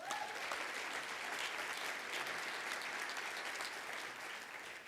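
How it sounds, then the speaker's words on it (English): A large audience applauds steadily throughout at a motivational speech, dense even clapping heard from some distance and fairly quiet, with a brief whistle near the start. "So give that a big round of applause"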